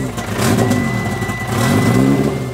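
A four-wheel-drive drift car at a drift and road show in Malta revs its engine loudly and close by, the pitch rising and falling in two surges over a rumbling idle.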